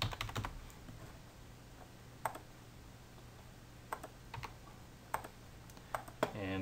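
An address is typed on a computer keyboard in sparse, quiet key clicks, single taps and short clusters spaced irregularly across a steady low room hum, with no talking.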